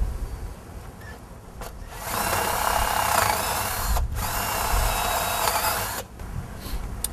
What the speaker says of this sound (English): we're going to drill a hole right where the cable is going to go around the pulley into your hoop house